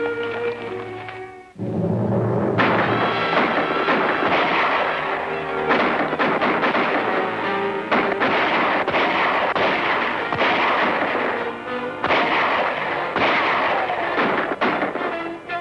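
Gunfire in a 1941 Western film: after a brief quiet start, a dense, loud, sustained barrage of shots and rifle cracks with echoing reports, continuing without a break for the rest of the clip.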